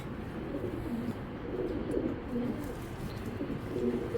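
A racing pigeon coos in low, rolling phrases repeated every second or so, close by, over a steady noisy background.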